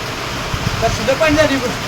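Heavy rain from a thunderstorm falls in a steady, dense hiss, continuous and fairly loud, with faint voices mixed in beneath.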